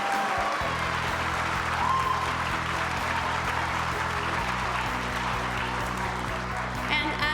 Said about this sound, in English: Let's have another round of applause for all of the film production graduates.